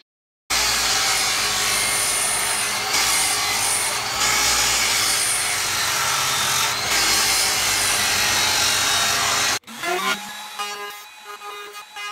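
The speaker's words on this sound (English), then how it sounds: "I'm ripping down some poplar for the face frame" Power saw ripping poplar boards for a pantry face frame, a loud, steady continuous whine and cutting roar sustained for about nine seconds before stopping abruptly, followed by a short spin-down and lighter noise.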